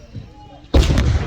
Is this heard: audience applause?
no